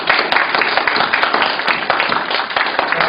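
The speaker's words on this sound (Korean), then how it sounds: "우리 한번 격려의 박수" A church congregation at a Wednesday worship service in Canberra, Australia, claps warmly for the second worship team: dense, steady applause filling about three seconds without a break.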